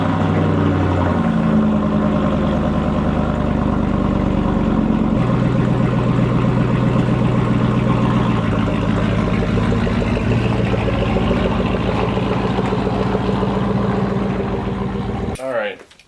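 A Chevrolet Avalanche truck engine runs close by, a steady low idle rumble with shifting tones as the truck is moved, continuing loud throughout before cutting off abruptly near the end.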